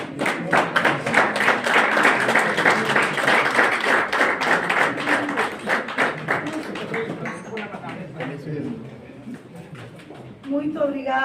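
A crowd at a journalism diploma ceremony claps in a brisk burst lasting several seconds, then fades as a voice begins speaking over the dwindling applause.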